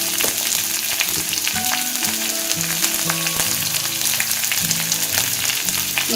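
Shallots and large onions fry in hot oil, a loud continuous sizzle and crackle with occasional stirring scrapes, steady throughout with no talking.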